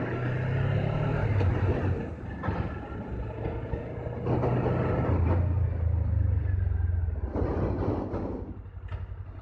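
A Suzuki GSX-250R motorcycle engine drones steadily up close for several seconds, heard with an open visor, with a deep rumbling hum and wind noise rising and falling.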